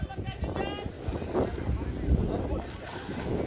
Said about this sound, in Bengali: আর এই যে নৌকা